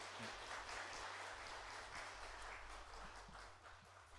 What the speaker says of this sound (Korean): 우리 박수로 목사님 환영하겠습니다.